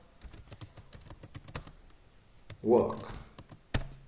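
Someone types a folder name on a computer keyboard: steady, quiet key clicks with a few louder taps. A short spoken word cuts in partway through.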